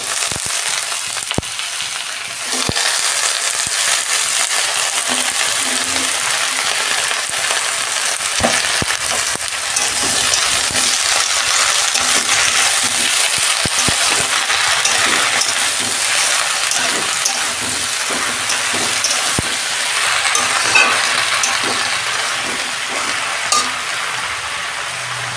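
Greens of Malabar spinach tossed into a pan of frying vegetables crackle and hiss steadily for a long stretch, with scattered scraping stirs and soft clicks, close and fairly loud, no talking.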